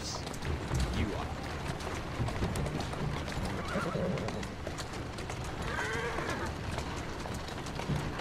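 Horse hooves clop along steadily with a couple of whinnies, under a busy background of ambient noise and faint voices, in the video game Assassin's Creed Syndicate.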